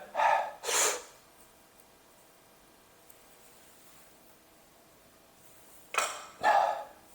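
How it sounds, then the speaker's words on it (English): A forceful breathy exhale at the end of a deadlift brace, two short loud breath bursts at the start and two more near the end, separated by several seconds of near silence. "you see that exhale there at the end there?"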